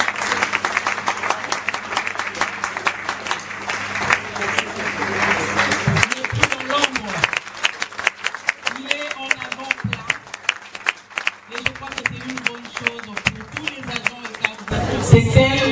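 An assembly rises in a standing ovation at a closing ceremony for a women's month event held by a vocational training ministry, with sustained dense clapping from a large crowd. Voices cheer and talk over the clapping near the end.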